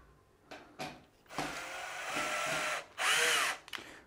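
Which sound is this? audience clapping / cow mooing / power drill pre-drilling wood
power drill pre-drilling wood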